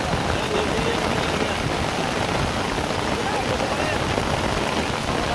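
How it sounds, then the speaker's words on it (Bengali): Heavy rain pours steadily over a pond during a fishing outing, a dense, continuous hiss with no breaks, close and loud throughout. "প্রচুর পরিমাণে বৃষ্টি হচ্ছে।"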